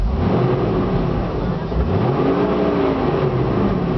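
Close up, the engine of a 2006 Jeep Wrangler runs with a steady rumble that rises and falls through a few gentle revs, with no talking.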